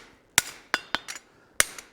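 A hammer strikes hot steel on a forging die to neck it down for a candlestick, five quick close blows in an uneven rhythm with bright metallic ring and no voices.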